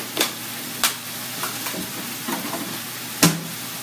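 Oil sizzles softly in a pan while spaghetti squash lasagna ingredients cook, with a few sharp utensil scrapes and stirs.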